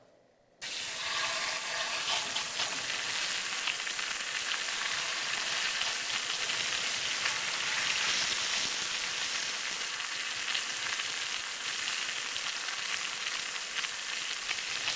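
Pork chops sizzle steadily in a hot pan, a dense, loud crackling hiss that starts abruptly and continues unbroken, with no talking.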